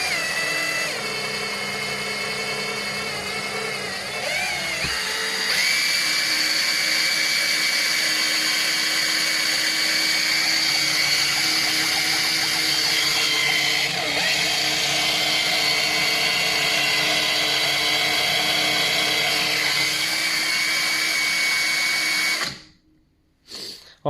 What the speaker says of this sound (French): j'enclenche tout avec ma perceuse